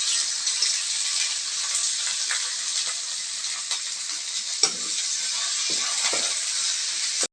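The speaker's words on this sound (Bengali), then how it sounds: "এবার পেঁয়াজগুলো হালকা ভেজে নেব আলুর সাথে।" Onion and potato pieces fry in a pan for a fish curry, giving a continuous, even sizzle with a few soft scrapes and clinks of stirring, close and steady throughout.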